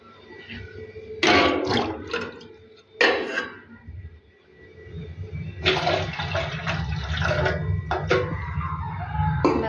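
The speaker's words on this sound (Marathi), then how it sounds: "मी अजून पाणी टाकणार आहे याच्यामध्ये" Water is poured into a pot for sugar syrup for gulab jamun in a home kitchen, with several close, splashing pours separated by pauses and light clinks of the vessel.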